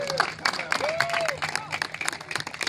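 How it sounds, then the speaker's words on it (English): Volunteers at an outdoor home-repair project event give a round of applause, with dense clapping and scattered cheers close by, and a few voices over it. "Give yourselves a huge round of applause."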